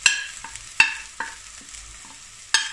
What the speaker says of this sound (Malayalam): മീറ്റ് മസാലപ്പൊടി, അല്പം കായം പൊടി, മഞ്ഞപ്പൊടി നന്നായിട്ട് യോജിച്ച് കൊടുക്കുക.